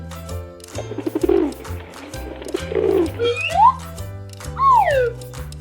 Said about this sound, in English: Pigeon. Pigeon.